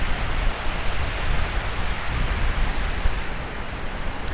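Wind at about 15 miles an hour sweeps along the Las Vegas Strip on a warm day, a broad, rushing roar with gusty buffeting rumble across the whole clip, loud and close.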